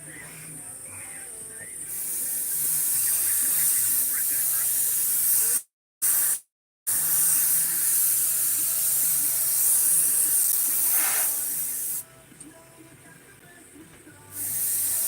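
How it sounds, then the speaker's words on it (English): Aerosol spray paint hisses onto an RC car bodyshell in long, loud bursts with short pauses between passes, a brief silent gap midway, and faint talk underneath. "you're looking to spray in from the outsides of the thing, just to make sure we get good coverage"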